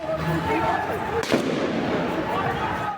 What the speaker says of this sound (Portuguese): atingido na cabeça por um disparo de arma de fogo à distância